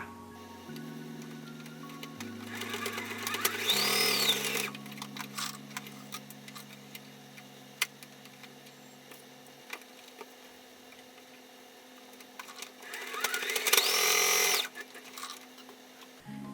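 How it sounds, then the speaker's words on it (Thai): A sewing machine stitches over a fabric game console case in two loud bursts of rapid, steady running, one near the start and one near the end. Quieter handling and fabric shifting fill the stretch between them. "พอได้แบบนี้เรียบร้อยเราจะทำการ เย็บทับลงไปแบบนี้เลยค่ะ"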